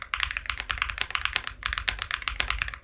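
A Higround mechanical keyboard with RGB lighting is typed on quickly and close up, giving a dense, continuous run of crisp clacking keystrokes.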